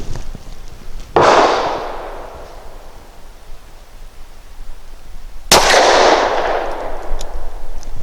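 Two loud, sharp gunshots from a DB9 Gen 4 compact snub pistol firing Winchester 90 grain ammunition, spaced about four seconds apart, each with a lingering outdoor echo and no talking.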